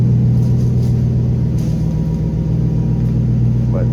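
A 2011-2019 Ford F150 with a 5L V8 and welded Thrush muffler dual exhaust idles with a steady, deep low rumble, close and even, with no revving and only faint background noise.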